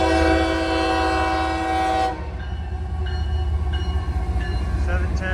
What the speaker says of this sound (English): CSX was rebuilding their AC-44s, and in this video, I catch a handful of them heading west in tow.